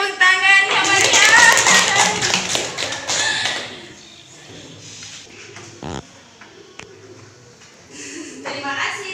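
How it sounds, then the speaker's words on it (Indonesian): Children in a classroom clap their hands in a loud, dense burst over the first few seconds amid lively young voices, then fade into quieter chatter and scattered sounds, with a little more clapping near the end. "Baru tepuk tangan sama dia."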